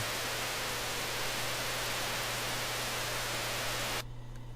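White noise captured on a computer, a dense, even hiss with a faint low hum underneath, steady for about four seconds before cutting off to near silence.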